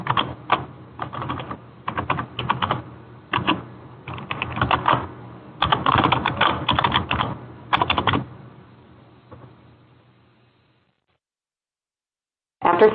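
Typing on a computer keyboard to enter a user ID and password at a login page: bursts of quick, close key clicks in uneven clusters for about eight seconds, then a fading hum, silence, and one more click at the end.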